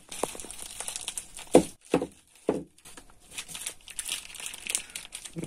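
Polystyrene foam packaging squeaks and crinkles as hands dig through a box holding a metal rotary table, with a few sharp scraping bursts separated by pauses.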